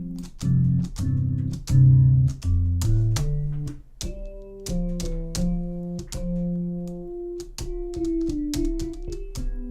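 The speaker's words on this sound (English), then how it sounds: "And ring modulating the original" Airwindows ring-modulated synth tone at a half ratio with the dry signal removed, heard alone as a sequence of plucked, metallic notes with inharmonic overtones and sharp attacks, moderately loud.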